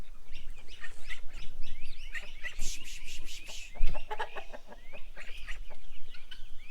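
Several call ducks, including English collared call ducks, call and quack in a busy, overlapping chorus nearby, with shrill bursts and a thump partway through.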